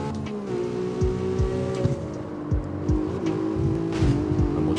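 A stock car in the CarX Street racing game drives steadily with a sustained engine drone, its pitch rising and dropping through gear shifts, with a few short revs and sweeping pitch changes along the way.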